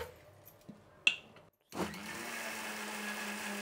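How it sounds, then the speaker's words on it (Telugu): A few handling clicks and a knock precede a brief silence, then a mixer grinder kicks on and runs with a steady, loud motor whir while blending tomato chutney. "ఇప్పుడు మిక్సీ పెట్టేద్దామండి."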